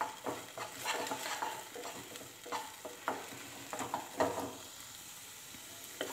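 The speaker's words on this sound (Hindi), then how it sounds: "लगातार हिलाते रहना है।" Spicy wheat mixture being stirred in a pan, with a steady run of soft scraping strokes and a faint sizzle underneath, fairly quiet and close, with no talking.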